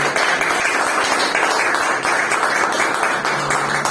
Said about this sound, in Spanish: Denle un aplauso a ese Salvador tan grande.